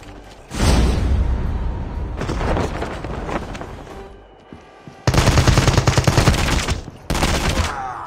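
Shotgun blasts from the HS2126 in Call of Duty Mobile battle royale, loud close booming shots in clustered bursts separated by short gaps.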